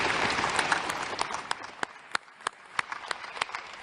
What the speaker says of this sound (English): give them a great round of applause for their courage and their commitment